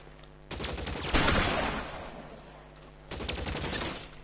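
Shotgun blasts and a crackle of gunfire in the video game L.A. Noire: a loud burst rising around the middle, with further bursts before and after, heavy and booming without any talk.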